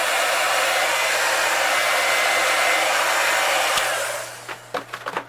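A hair dryer blows steadily at close range, heat-setting paint on a bluegill fishing lure, then switches off and leaves a few faint clicks and handling noises.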